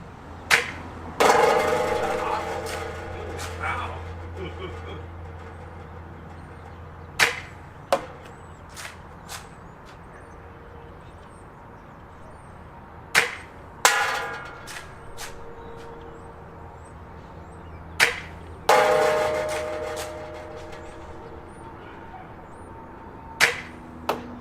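A Nerf Rival Mirage blaster firing Accu rounds, about a dozen sharp separate shots with pauses between them, some followed by a brief whirring mechanism and rattle, close by with no talking.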